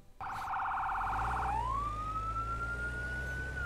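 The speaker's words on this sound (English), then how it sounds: "All right, it's a siren." A fire engine siren in the game Fire Fighting Simulator, responding to a house fire spreading to the roof, sounds loud and close: a rapid warbling yelp shifts into a long rising wail over a low engine rumble.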